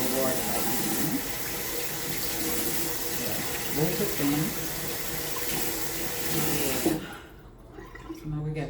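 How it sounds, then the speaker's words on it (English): Tap water runs steadily into a sink as oranges are rubbed and rinsed under the stream, with a voice talking over it before the flow cuts off near the end. "That's why I'm rubbing it under the water like this."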